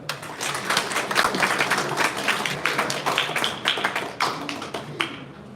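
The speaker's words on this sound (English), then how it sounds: "Let us all give a warm round of applause to Dean Emeritus Professor Lilia J. Season" An audience at an academic event applauds, with dense, close claps that swell and dip in uneven bursts for about five seconds before tapering off.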